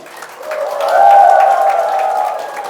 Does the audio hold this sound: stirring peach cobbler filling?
no